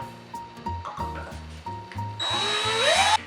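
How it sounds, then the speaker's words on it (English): A power drill bores a hole through the top of a mason jar lid. It revs in short bursts before grinding hard through the metal for about a second, close and loud. "I'm going to start by drilling a hole right through the top"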